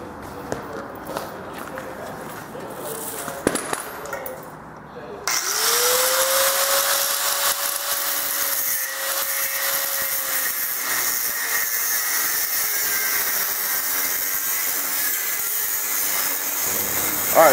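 A power tool cuts off worn trailer suspension parts: after a few seconds of handling noises and clunks, a loud, close, steady high-pitched whirring and grinding starts and runs continuously to the end.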